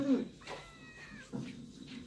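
A cat lets out a few short, whiny meows close by indoors, with brief pauses between them and a person's voice faintly present.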